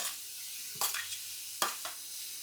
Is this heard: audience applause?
no